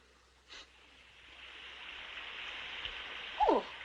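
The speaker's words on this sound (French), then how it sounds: "Oh, voilà qu'il commence à pleuvoir." Steady soft rain begins to fall and grows slowly louder, a broad hiss of drops with a few faint taps and a brief higher sound near the end, no one speaking.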